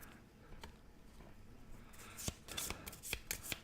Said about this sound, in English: that should be a good shuffle on all the decks